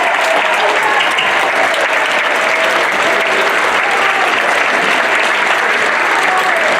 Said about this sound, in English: please give the entire panel a round of applause